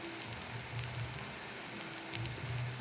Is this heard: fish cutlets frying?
yes